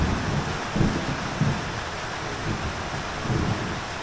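Heavy rain pours steadily onto the roof of a DIY sauna, a dense continuous wash with occasional low rumbling swells of thunder, no voices.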